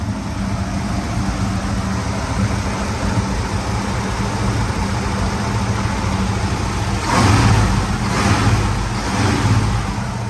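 A 1972 Ford Bronco's engine runs steadily throughout, a close, loud, continuous rumble that briefly swells around two-thirds of the way through as the throttle is blipped.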